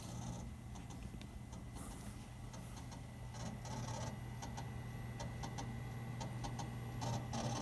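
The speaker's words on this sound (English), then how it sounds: "That hard drive does not sound healthy." Failing hard drive in an old Dell computer, heard faintly as irregular ticking and clicking over a steady low machine hum and fan whir, with no talking.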